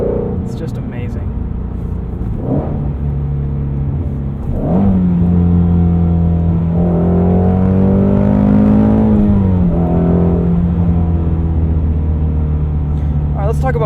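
A 2016 Ford Mustang Shelby GT350 engine revs loudly and close, its steady roar climbing and holding before easing off, with a brief burble around it.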